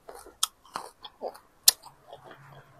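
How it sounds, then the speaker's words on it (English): Close chewing of a peppery, spicy food, with irregular wet crunches and bites spaced through the moment alongside soft mouth noises. "You start chewing it like this."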